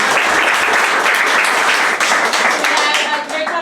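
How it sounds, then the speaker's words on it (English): A comedy show audience bursts into dense, steady applause that fills the room, tapering off near the end, with a voice faintly underneath. "Give yourselves a round of applause for being here."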